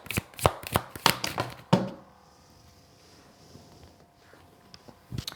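Tarot-style cards shuffled by hand for a reading, a quick run of crisp riffling slaps and taps in the first two seconds, then near quiet with a couple of faint card taps at the end.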